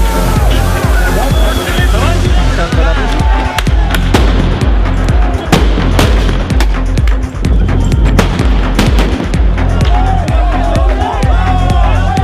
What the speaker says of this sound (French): la valse des grenades lacrymogènes et tirs de flashball